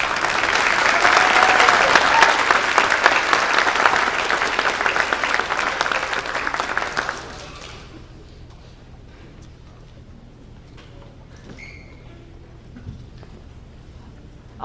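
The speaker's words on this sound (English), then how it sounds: "another round of applause." Dense, loud applause from a concert audience for a high school philharmonic orchestra and its conductor, sustained for about seven seconds before cutting to a quiet room with faint scattered sounds.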